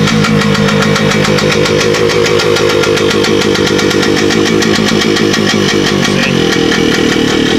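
A car engine with a carburetor problem idles loudly and up close, a rough, rapid, uneven chugging that runs steadily throughout.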